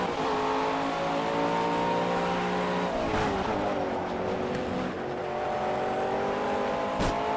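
BMW GT3 race cars in the Project CARS racing game scream at high revs, engine pitch climbing and dropping through gear changes, with other cars close behind and a brief thump near the end, loud and continuous, no talking.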